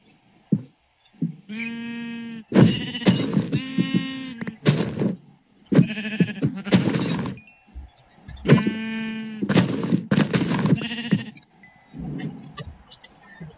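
Sheep bleating in Minecraft, several wavering game bleats spread through the stretch, loud and close, with other short game sound effects between them and no talking.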